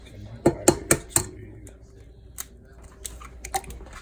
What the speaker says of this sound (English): We're going to crack 2 eggs into the liquid.